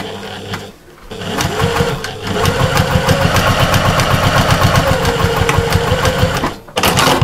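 A sewing machine stitches over a cushion seam made from fabric scraps. After a short pause the motor runs loud and close with a rapid, even needle clatter for several seconds, then stops briefly and restarts.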